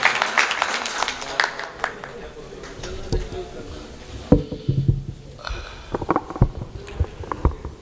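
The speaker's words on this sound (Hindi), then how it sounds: "आप हज़रात ज़ोरदार तालियों के साथ" Audience applause welcoming a poet at a poetry gathering, scattered moderate clapping from a modest crowd, uneven and patchy, with some voices and room noise.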